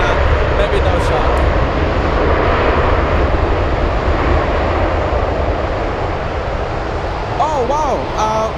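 A special-livery airliner comes in to land at Anchorage Airport in gusty winds, its engine roar loud and steady throughout with wind buffeting, and a voice briefly audible near the end.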